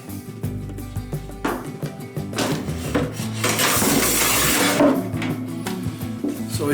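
A metal dripping pan clanks and scrapes as it is slid into a no-weld outdoor smoker oven, with several metallic knocks and rattles building to a louder sustained scrape before settling.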